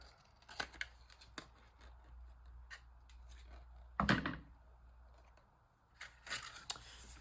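Scissors trimming a botanical bookmark: a few faint, quiet snips spaced apart, one louder crunchy cut in the middle, then a couple more light snips near the end, in a quiet room.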